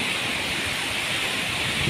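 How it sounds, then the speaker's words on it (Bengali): Heavy rain pours down steadily as a dense, even wash of hiss that stays loud and unbroken throughout, with no voices. "কি পরিমাণে বৃষ্টি, ভাবা যায় না"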